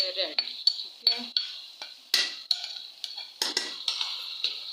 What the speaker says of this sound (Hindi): दाल डाली, अब हम इसको मिक्स करेंगे और इसको दम पे लगा देंगे